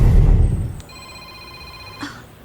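A cellphone gives a short electronic ring of steady bright tones, following a burst of low rumbling noise, with a soft click as it ends.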